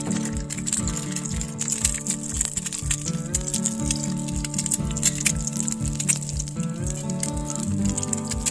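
An egg sizzles steadily in a well-seasoned carbon steel pan on a Camp Chef Explorer 2 outdoor propane stove, a constant close frying hiss with a low tonal hum running beneath it and no talking.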